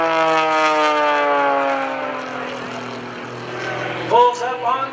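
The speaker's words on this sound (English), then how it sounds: "Gary Ward coming in from the left with the MX-2." An MX-2 aerobatic airplane performs at an airshow, its propeller engine droning loudly and sliding downward in pitch as it passes. A brief burst of other sound comes at the end.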